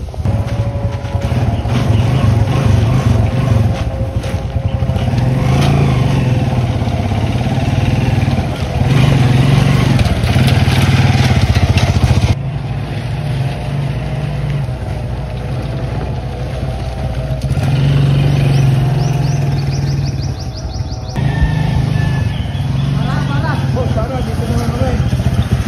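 Motorcycle tricycle engine carrying passengers, a steady loud drone running throughout with uneven surges, while people talk over it.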